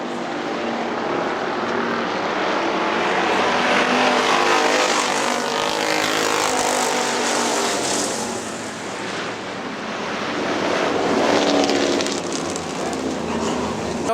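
Factory stock cars race around the Hartford Speedway Park oval, a dense, loud, continuous engine roar that swells and fades slightly as the field passes, with no break throughout.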